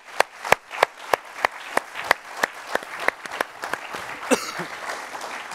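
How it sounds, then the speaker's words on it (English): Sparse, evenly spaced clapping from a small conference audience at a research conference session, individual claps distinct and fairly close, with a brief murmur near the end. "one is a round of applause for the two of you."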